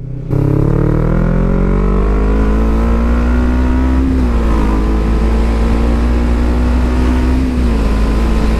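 A motorcycle on a road trip near Marseille runs loud and close, its engine holding a steady, droning pitch that climbs slightly and then levels off, with no talking over it.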